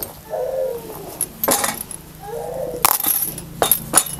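A knife cuts a ripe pumpkin into small pieces, giving sharp, scattered clicks and taps of the blade against the board at an uneven pace, close by and moderately loud.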